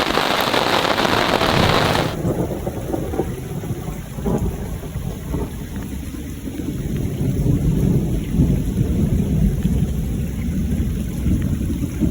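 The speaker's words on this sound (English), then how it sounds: "you could just hear the lightning, the thunder forming around us for the last 40 minutes" Heavy rain pours steadily on a rural homestead in Portugal while thunder rumbles low and continuous, with a loud burst of noise at the start before the downpour settles.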